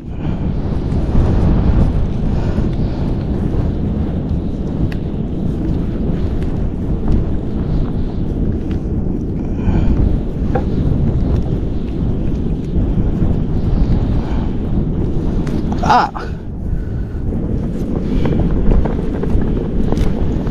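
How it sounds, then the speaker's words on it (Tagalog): Strong wind roars continuously at sea, a heavy steady rumble buffeting the microphone for the whole stretch, with occasional brief gusts. "Lagi nang malakas ang hangin dito sa dagat."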